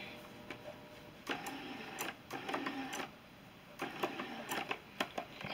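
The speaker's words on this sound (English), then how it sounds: "I'm just going to stitch along this center seam at 1/4 inch." A domestic sewing machine stitches along the center seam of fabric at a quarter inch for a memory bear, in short bursts of rapid mechanical whirring separated by brief pauses, fairly close with no talking.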